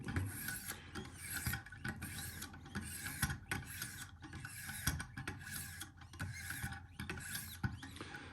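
A Spyderco Yojumbo Wharncliffe blade is sharpened on a Wicked Edge fixed-angle sharpener, with stones rasping against steel in a steady rhythm of short, light strokes, close and alone.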